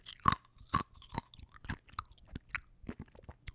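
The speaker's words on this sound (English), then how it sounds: "ASMR, crunchy ice." Crunchy ice being chewed close to the mic in an ASMR style, with a series of sharp, irregular crunches and bites repeating over a few seconds with no talking.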